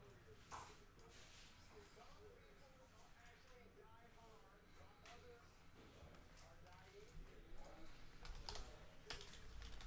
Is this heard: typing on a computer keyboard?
yes